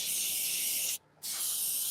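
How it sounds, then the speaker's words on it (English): An aerosol spray can applies a finish coat to wood, a loud steady hiss that breaks off briefly for a moment, then resumes just as strongly. "I like doing an aerosol can, just a spray can"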